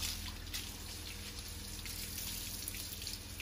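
Water poured steadily over a pig during an afternoon bath, a soft continuous splashing trickle with faint droplet spatter, heard close and alone without talk.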